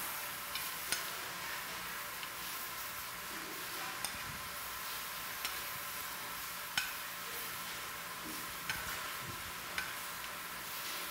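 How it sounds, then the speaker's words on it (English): Bacon and chard sauté quietly in a pan with a steady soft sizzle, broken by scattered light ticks and clicks of stirring, with no voices. "We're just going to give it a nice saute. See the bacon, how it's getting nice and crispy."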